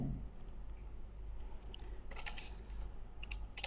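A name being typed on a computer keyboard, light key clicks in a short cluster and then a few scattered taps over a low steady hum, close and quiet.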